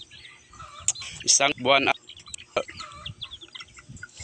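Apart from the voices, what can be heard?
chicks and mother hen clucking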